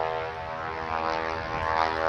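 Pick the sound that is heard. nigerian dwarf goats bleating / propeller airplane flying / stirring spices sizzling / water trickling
propeller airplane flying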